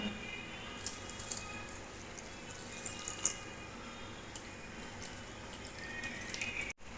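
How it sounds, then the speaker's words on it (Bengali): Flattened rice (chira) being washed in a bowl of water, a soft continuous slosh and trickle with small splashes and drips, close and quiet. "এখন আমি চিড়েটাকে ভালো করে ধুয়ে নেব"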